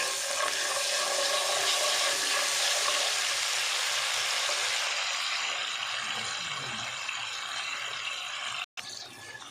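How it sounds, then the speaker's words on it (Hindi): Water is poured into a hot pan to melt jaggery for gur papdi, a steady hissing, sizzling wash of sound that runs loud and unbroken before thinning out near the end. No one speaks. "हम इसमें तकरीबन 2 ही चम्मच पानी के डाल देते हैं, ताकि ये अच्छे से मेल्ट हो जाए"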